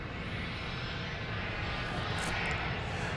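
A jet aircraft rumbles at Dallas Love Field Airport at night, a steady, distant broadband engine roar that holds level throughout without voices.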